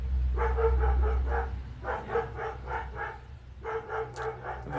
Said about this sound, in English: I have a very barky dog.